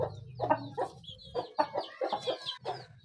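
A hen clucks in short, close bursts, repeated rapidly with brief pauses, in a backyard setting with Aseel chicks, and no other sound competes with the calls.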